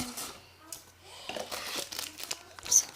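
Packaging, a Panini card pack, crinkles and tears in short, close bursts as it is cut open with scissors, with light handling noises and a faint low hum underneath.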